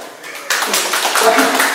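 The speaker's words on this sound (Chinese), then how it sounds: "拍拍手一下" A church congregation at a Mandarin Sunday service breaks into applause, a burst of many hands clapping that starts abruptly and carries on steadily.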